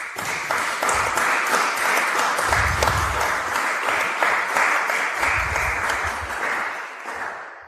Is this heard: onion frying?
no